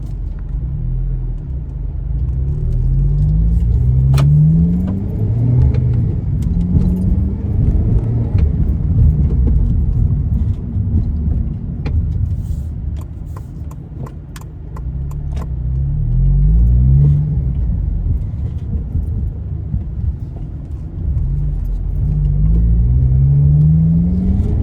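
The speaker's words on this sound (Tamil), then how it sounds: "8000 RPM வரைக்கும் இப்போ நான் இப்போ வந்து ஃபஸ்ட் கியரில் போட்டு ரெவ் பண்ணேன்" A Honda VTEC car engine is revved in first gear up to 8000 RPM: a loud, steady engine rumble rises in pitch in several sharp sweeps, then settles back between them.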